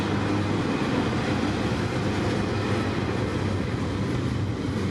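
Trains rumble along the rails in a steady, continuous roar with a broad clatter, sounding fairly close and even throughout, with no voices.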